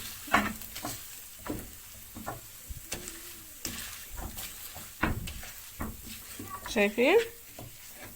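Hot potatoes are mashed one by one in a frying pan, with soft sizzling, scraping stirs and dull utensil knocks against the pan while someone talks intermittently.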